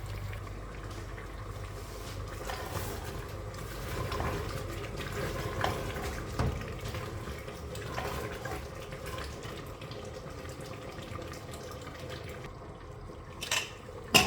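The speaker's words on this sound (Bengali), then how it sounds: "ফেলে দিব পানি।" Water is poured into a pot of braised beef being cooked for biryani, a steady close wash of liquid running for the whole stretch with a few small clinks near the end and no talk.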